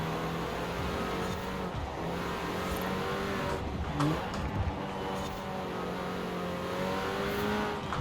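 A 2018 Renault Megane R.S. is pushed hard through corners in the racing game Forza Horizon 4. The engine revs high and wavers as the car accelerates and lifts, with brief tire squeal. The sound is steady and close.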